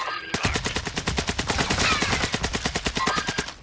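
Rapid automatic gunfire in Warzone 2, a loud, steady burst of evenly spaced shots lasting several seconds, close and alone with no talking.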